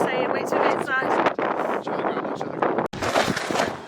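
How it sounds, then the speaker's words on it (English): Strong gusting wind from a winter storm roars across the microphone outdoors, loud and continuous with buffeting bursts, while people talk underneath it. "it's way too windy outside to talk"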